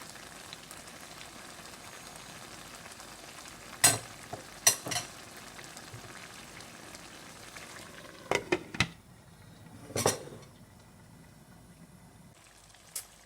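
Pumpkin and shrimp frying in a pan as the liquid cooks down, a steady low sizzle with a few sharp utensil clicks and scrapes scattered through it.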